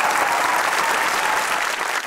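Studio audience at a live comedy show claps in dense, steady applause that stays loud and even for about two seconds, with no talking over it.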